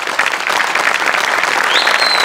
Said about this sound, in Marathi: या सगळ्यांसाठी एकदा जोरदार टाळ्या व्हायलाच पाहिजेत